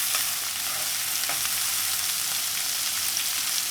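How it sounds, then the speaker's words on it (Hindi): Tomato puree cooking into a spiced masala in a kadai, a steady close hiss of frying with soft stirring scrapes running throughout, no voices. "तो अच्छे से मिक्स कर देंगे और टमाटर को 2 मिनट के लिए पकने देंगे।"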